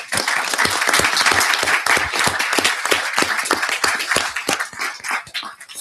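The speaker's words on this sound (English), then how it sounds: "So I suggest that we have a round of applause for our speakers." An audience at a debate on learning in Africa gives a close, vigorous round of applause, with sharp individual claps standing out from the crowd before it begins to thin toward the end.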